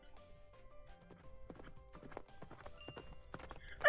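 A horse's hooves clip-clop in an irregular, quickening rhythm, drawing closer in a video game scene, with tonal game sounds and a faint whinny behind them.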